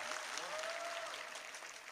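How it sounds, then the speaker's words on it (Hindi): Applause from a comedy poetry show audience, a continuous wash of many hands clapping at a distance, faint and steady, with a brief whistle-like tone rising through it. "जोरदार तालियां होनी चाहिए।"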